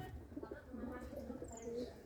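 A pair of Black Diamond pigeons coo softly in low, throaty, repeated calls over a faint background murmur.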